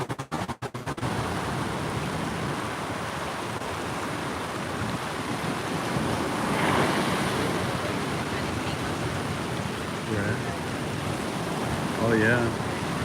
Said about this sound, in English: Every once in a while, it seems like we get a pretty big wave.